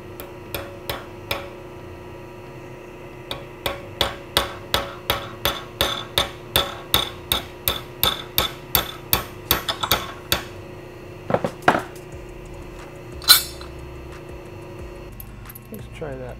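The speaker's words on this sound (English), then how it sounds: "How about a brass hammer that I never use?" A brass hammer strikes metal in a steady run of sharp, ringing blows, about two per second, driving a socket on a bicycle frame fixture, followed by a few scattered louder hits and a brief pause.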